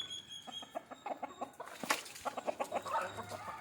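Free-range country chickens cluck busily while pecking at bran feed, with a rooster among them. Short, irregular clucks come from close by, with one sharper squawk partway through.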